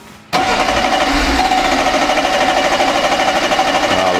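A Mercedes CL 500 (W126) engine with a suspected fault catches on its first start, then holds a loud, steady, rough running roar throughout.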